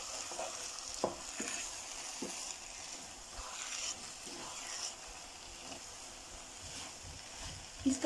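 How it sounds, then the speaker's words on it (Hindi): Grated carrot halwa roasts in desi ghee with a faint, steady sizzle and soft stirring scrapes, quiet and close, with a few louder clinks near the end. "इसको हम अच्छे से भून लेंगे।"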